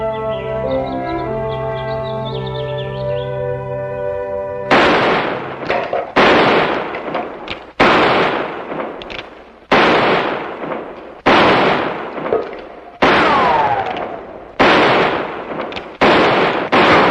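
Target-shooting gunshots in an Old West setting: about nine sharp, loud cracks at roughly even intervals, each trailing off in a short echo, coming after several seconds of a sustained musical tone.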